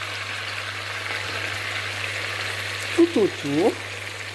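Onions tossed into a hot pan around beef shank give off a steady frying sizzle, with a few short scraping stir sounds near the end and brief speech.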